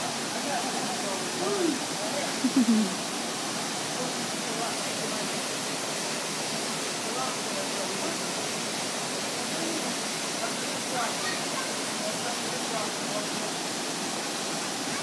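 A waterfall gives off a steady, broad rushing roar that fills the scene without a break, with a brief faint voice heard early on.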